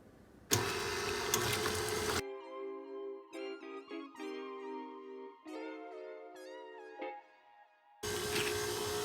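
An electric mixer beats an egg into batter for apricot jam bars (mabrousheh), a loud whirring roar at the start and again at the end, with a stretch of tonal, musical sound between the bursts.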